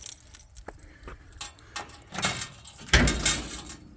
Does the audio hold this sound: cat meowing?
no